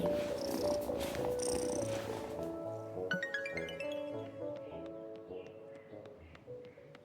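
Cat purring in the life-sim game Wylde Flowers, a soft steady rumbling purr up close, joined by light game music with plucked and chiming notes that carries on after the purring fades.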